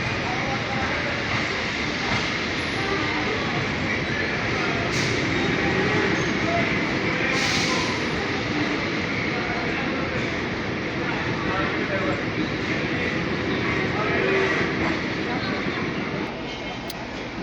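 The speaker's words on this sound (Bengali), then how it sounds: "দেখতে দেখতে কিন্তু কাঞ্চন কমিউটার ঠাকুরগাঁও রোড ছেড়ে গেল।" The Kanchan Commuter intercity train pulls out of Thakurgaon railway station with a loud, continuous rumble and roar of rolling wagons that stays close and steady throughout.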